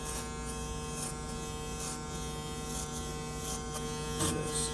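An electric hair clipper hums in a steady close buzz during a mid skin fade haircut, with faint brushing sounds as it moves over the head.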